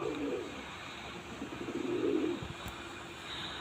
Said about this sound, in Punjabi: ਉਹ ਆ ਗਈ ਨੀਲੀ ਕਬੂਤਰੀ